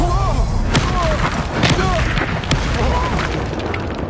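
A Confringo spell blast in Hogwarts Legacy: loud booming impacts with several sharp hits in quick succession over combat noise, with voices in the background.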